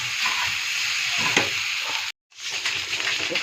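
Leftover rice fries in a pan with a steady, close sizzle and light stirring scrapes. The sizzle breaks off for a moment, then returns.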